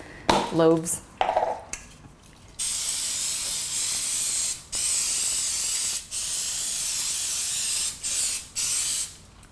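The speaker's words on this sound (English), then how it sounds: "spray it with nonstick spray" After some clatter of a mini-loaf pan, an aerosol can of coconut oil nonstick cooking spray hisses in four long, steady bursts separated by short pauses.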